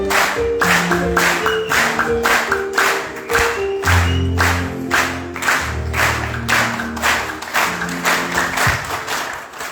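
A church congregation at an inauguration program in South Africa claps steadily in rhythm to welcome a singer to the stage, the loud, even clapping running throughout over sustained keyboard-like music, with no talking.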